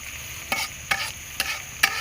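Vegetables — cabbage, radish and potato — with turmeric powder stirred and fried in oil, giving a soft continuous sizzle broken by four evenly spaced scraping stir strokes; no talking.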